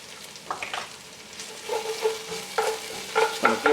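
Tomato paste and celery are stirred in a hot pan, soft sizzling under irregular scraping and clinking strokes of a spoon against the pan, close and moderately quiet.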